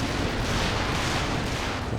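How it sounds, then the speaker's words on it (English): Stuka dive-bomber barrage in Company of Heroes 2, a dense continuous rumble of explosions and booming impacts filling the whole stretch at steady loudness. "Stuka barrage."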